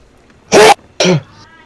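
Two sharp, loud bursts close by, like a sneeze and a second sneeze or cough half a second later, then quiet.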